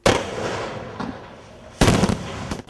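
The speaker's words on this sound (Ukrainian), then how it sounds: "Далі лунає вибух." A demolition charge detonates in a sharp explosive blast during military cadet training, followed by rumbling debris and a second loud boom, heard from a moderate distance outdoors.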